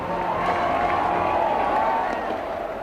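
Dense crowd noise from the Black Nazarene religious procession, a steady close wash of many voices and movement with no single clear voice standing out.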